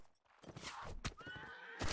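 A knight's horse whinnies in a medieval battle video game as it falls, a short loud neigh with a rising squeal amid battle noise and clatter.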